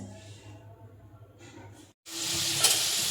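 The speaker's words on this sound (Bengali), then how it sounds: "আলুগুলো প্রায় ভাজা হয়ে গেছে" Potatoes fry in a pan. After a quiet stretch with faint low background noise, a loud, steady sizzle comes in suddenly and stays strong until the end.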